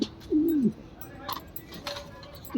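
A large Mundiyam pigeon gives a couple of low, throaty coos, close by, with soft background noise and faint chirps between them.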